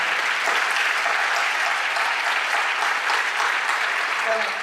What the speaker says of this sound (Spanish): E Inma, que lle vamos a dar o máis forte aplauso